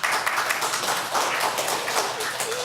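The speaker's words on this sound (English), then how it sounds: "I would really appreciate if people would stop clapping" Applause from an audience at a city council meeting, a dense steady patter of many hands clapping throughout, moderately loud and without speech.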